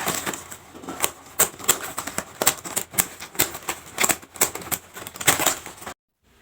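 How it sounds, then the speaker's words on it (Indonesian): Scissors snip through a plastic strip used for weaving a basket, making a quick run of sharp, crisp clicks and cuts close by. The snipping is irregular but busy, then stops abruptly near the end. "Selanjutnya ini kita gunting."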